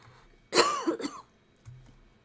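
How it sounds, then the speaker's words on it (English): A single sharp cough followed by a short throat-clearing rasp, close and fairly loud against a quiet room, then a faint low hum. "I got to cough again"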